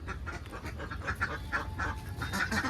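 Several ducks on a duck farm quack in a continuous overlapping chatter, close by and moderately loud, with no voices.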